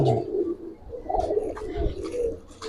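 Giribaz pigeons in a loft give soft, repeated low coos, close and steady, with faint rustling around them.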